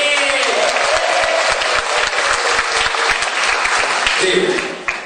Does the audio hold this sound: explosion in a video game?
no